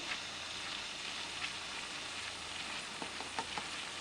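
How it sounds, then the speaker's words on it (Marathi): Raw mango pieces sauté in a hot kadhai of oil tempered with cumin and mustard seeds, a continuous close frying sizzle with soft stirring ticks and occasional spatters. No voices. "कढई गरम करायला ठेवली आणि त्याच्यात तेल टाकलं, जिरं मोहरीची फोडणी दिली आणि कैरी टाकली त्याच्यात. चांगली परतून घेते आता ती कैरी"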